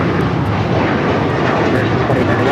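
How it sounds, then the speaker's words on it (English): Airbus A321 jet taking off at LAX, a steady, loud broadband roar of engines filling the whole stretch without letup. "2891 taking off to Chicago on the A321"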